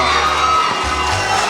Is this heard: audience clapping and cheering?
yes